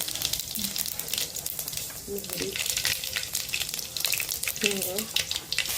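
Cumin seeds sizzle and crackle in hot oil for chole, a busy, close frying hiss with popping bursts and a few faint clanks of a spoon against the pan.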